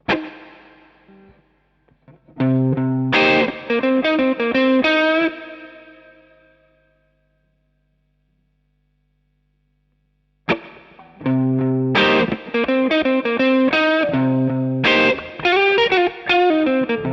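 An electric guitar played through a Nux Cerberus pedal with overdrive and spring reverb rings out in distorted chords, two bursts separated by a long decaying tail and silence, loud and alone.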